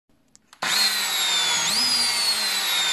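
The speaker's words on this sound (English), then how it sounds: "But first, we have to drill." Power drill boring screw holes into the back of a SHAD SH59X motorcycle top case for a Honda NC750X, starting abruptly after a few faint clicks and then running loud and steady with a brief pitch rise partway through.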